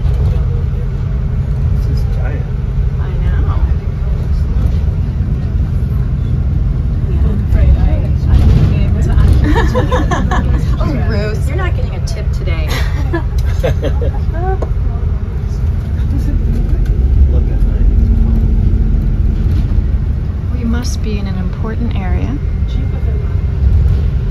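A tour bus drives along with a steady low engine and road rumble throughout, while people talk and chatter aboard over it.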